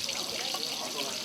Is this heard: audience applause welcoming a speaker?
no